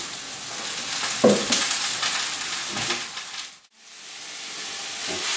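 Sliced eggplants sizzle in a hot frying pan for a quick ratatouille, a steady close hiss with a few stirring knocks and a brief dip before the frying resumes.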